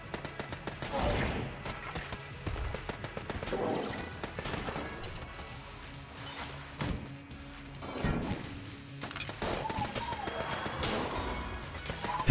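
Rapid gunfire in Enter the Gungeon from a modded gun with infinite stacking damage, dense repeated shots and impact crashes at moderate volume, with no talking over them.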